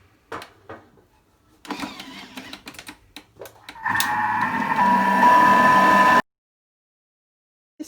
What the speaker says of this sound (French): vous mélangez 20 secondes, vitesse 6, en y ajoutant progressivement l'eau